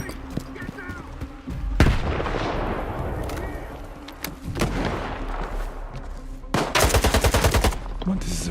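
Enemy gunfire in the shooter game Stalker 2, rapid bursts of automatic shots crackling loudly and close, with a dense rattling volley near the end.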